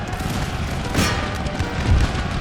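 Musket volley fire in the Empire: Total War video game, heard as a dense, rumbling wash of distant massed shots with a brief louder crack near the middle, continuous and without talk.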